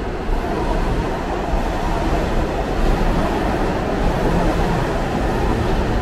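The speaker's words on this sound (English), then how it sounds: "That would be a B train." A B subway train roars through a Brooklyn station without stopping, a loud, steady rumble of wheels and cars that holds evenly from start to finish.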